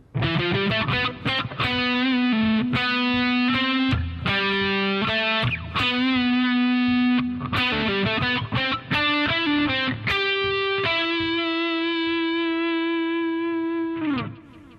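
Electric bass guitar plays a phrase of quick plucked notes with pull-offs, close and clear, then settles on a long sustained note that rings out alone.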